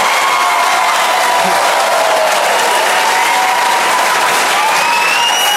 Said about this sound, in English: Listen how long this applause goes on.